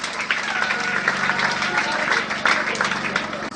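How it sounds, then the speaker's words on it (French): Loud, sustained applause from a crowd at a charity ceremony handing out gifts to children from low-income families, steady clapping filling the whole stretch with a few sharper claps near the end. "On acclame très fort."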